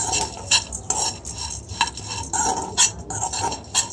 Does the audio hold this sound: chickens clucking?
no